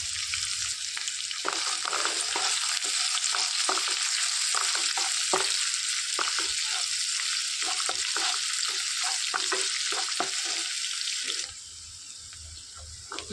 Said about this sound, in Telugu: ఇందులోనికి సన్నగా కట్ చేసి పెట్టుకున్న ఉల్లిపాయలు వేసుకొని వేయించుకోవాలి.